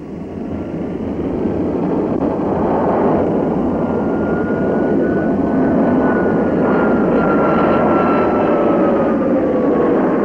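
A T-33 Shooting Star jet engine runs on a taxi strip, a loud, steady roar with a thin whine that slowly rises and falls in pitch. It holds throughout with no voices.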